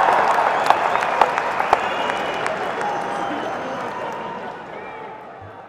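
An audience claps and cheers at a political speech event in India, a dense sustained ovation with sharp individual claps early on that slowly fades, voices mixed in.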